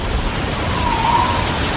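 Storm wind and heavy rain made as a radio drama sound effect for a forest scene, a loud dense rushing roar that holds steady from start to finish with no voices.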